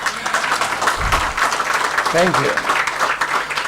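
Audience applause at a book launch, a moderate wash of clapping from the crowd while someone speaks over it briefly.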